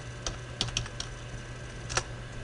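Someone types a command on a computer keyboard, with a few quiet, close key clicks in short irregular clusters and no talking.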